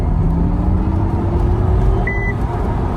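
A short electronic warning chime from an MG Cyberster sports car, a single beep sounding over steady road and engine noise while driving.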